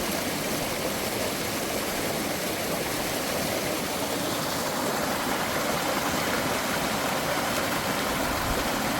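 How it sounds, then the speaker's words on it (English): Water in Kenya rushing like a waterfall, a dense, steady broadband roar filling the whole stretch, close and loud with no pauses. "Just listen to the sound of the water."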